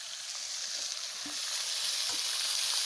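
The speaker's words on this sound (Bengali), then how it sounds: "মাঝখানে মাছটা আস্তে আস্তে চারো সাইডে দিয়ে দিচ্ছি" Pomfret fish fries in a pan of hot oil, a loud, steady hissing sizzle that swells slightly as pieces are laid in, close and continuous with no talk.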